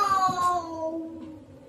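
Small kittens meow in a drawn-out, descending cry near a police officer on patrol, with a second softer mew trailing off, all fairly close.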